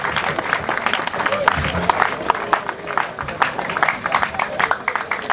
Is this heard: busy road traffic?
no